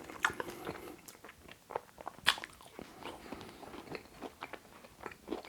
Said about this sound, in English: The chicken, first of all, the crunch you can hear